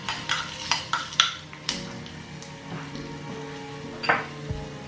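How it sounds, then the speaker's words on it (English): Onion and garlic stir-fried in a pot for kimchi stew, with a soft sizzle beneath a quick series of close utensil clinks and scrapes against the pot, then a few more strokes. "add the onion and the garlic. Stir fry for about 1 minute."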